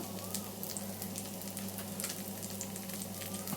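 Bitter gourd pieces frying in oil in a pan give a steady, close, even sizzle with light crackling throughout and no voices.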